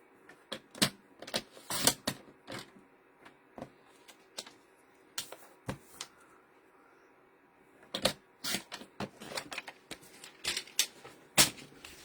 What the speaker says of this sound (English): Like take an 1/8 of an inch off,